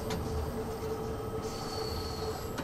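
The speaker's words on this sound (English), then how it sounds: "All right, applying brakes." A 1972 Tube Stock London Underground train on the Bakerloo Line in Train Sim World 2 brakes with a steady rumbling roar and a thin, high squeal of wheels, continuous and fairly loud throughout.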